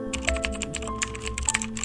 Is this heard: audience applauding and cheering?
no